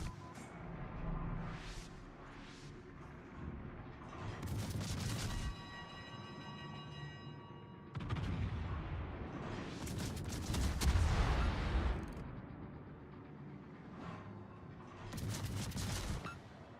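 Naval artillery in World of Warships fires in loud, booming salvos of overlapping blasts, with several heavy volleys spread across the stretch and no talk.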